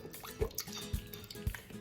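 Balsamic vinegar poured into a chilled red bell pepper soup, giving three soft, evenly spaced liquid drips, close and quiet, with no voices.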